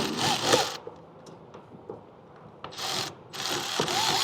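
Ratchet on a 12 mm bolt under a Ford 6.0 diesel Excursion: a few short bursts of clicking and metallic scraping with quieter gaps between, close by and without talk.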